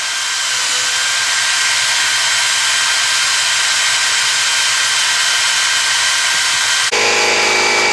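Compressed air blasts continuously onto a 426 Hemi crate engine part that was just brushed out with lacquer thinner, a loud, close, steady hiss that shifts abruptly in tone near the end.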